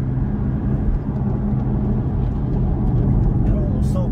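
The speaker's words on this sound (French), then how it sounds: "les flat 6 atmosphériques qui prennent des tours à n'en plus finir" A steady, loud engine drone with a low rumble continues throughout from a 2024 Porsche Cayman Style Edition's naturally aspirated flat-six, while someone talks over it.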